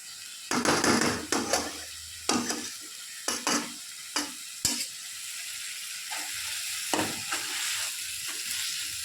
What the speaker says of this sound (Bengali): শুধুমাত্র তেলে মোচাটাকে ভালো করে তেলে আলু আর মোচাটাকে ভাজছি